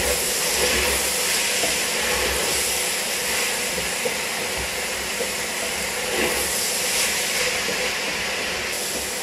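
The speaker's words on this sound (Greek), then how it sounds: "Τσιγαρίζουμε σε δυνατή φωτιά." Onions and peppers sizzling in hot oil over high heat, a steady, loud, broadband hiss that continues throughout without pause.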